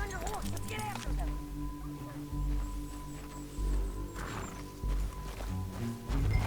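Horse hoofbeats while riding in the video game Red Dead Redemption 2, a rhythmic clip-clop of galloping over a western canyon trail with an occasional whinny, mixed under game music and a voice talking throughout.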